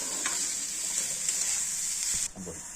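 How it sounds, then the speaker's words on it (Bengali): Vegetables for fried rice sizzle steadily in a hot pan, a close, even hiss with a few soft stirring scrapes, and no voices. "সবজিগুলো ঠিক হালকা হালকা করে ভাজা হয়ে গেছে"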